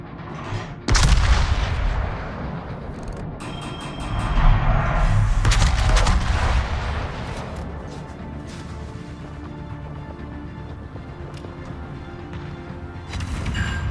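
Naval guns on a warship in a video game fire high explosive shells, sounding as heavy booming blasts followed by a long rumbling, crackling sustained roar, loud and close, with no voices.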